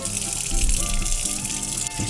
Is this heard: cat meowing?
no